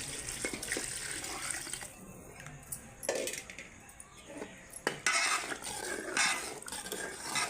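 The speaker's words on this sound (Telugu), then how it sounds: "ఇప్పుడు వాటర్ యాడ్ చేసుకుందాం" Water poured into a pot of meal maker pulao, a close splashing gush with clinks of a spoon or vessel against metal, fairly quiet and without talk.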